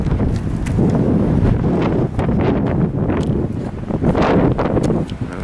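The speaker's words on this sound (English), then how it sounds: "Windy day today too." Strong wind gusts roar steadily over the microphone outdoors during a drive, loud, buffeting and continuous with no talk.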